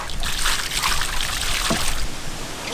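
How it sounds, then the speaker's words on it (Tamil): Water runs and trickles steadily over a giant glass trevally fish being washed and scrubbed outdoors in a village kitchen, a continuous close splashing flow for a few seconds with no talk. "அழகா கழுவி எடுத்துக்கிடுவோம்."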